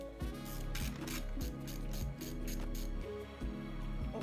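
A ratchet driver unscrewing T30 fairing screws on a BMW S1000RR motorcycle, steady rapid pawl clicking in repeated strokes with brief resets, close and loud.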